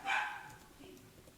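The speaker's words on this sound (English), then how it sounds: "You may hear my dogs barking in the background." A pet dog at home gives one loud bark at the start, followed by quieter yips and a short burst at the end, heard close by with no talking.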